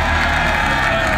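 A large crowd of contestants in a real-life Squid Game competition cheers and whoops loudly together, a dense continuous roar of voices.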